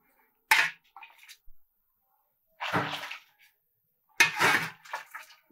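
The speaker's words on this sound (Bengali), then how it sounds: "এখানে এই 2 বালতি জল দিয়ে দিলাম।" Water is poured from a bowl into a cooking pot in three short, close splashing bursts separated by pauses.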